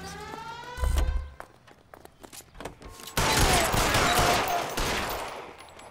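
Gunfire breaks out in the video game L.A. Noire Remastered: a heavy low thump near the start, scattered sharp cracks, then a dense, loud sustained burst of shots and clatter through the second half.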